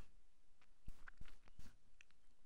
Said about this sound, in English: now I have popcorn, so if you hear any crunching, that's me.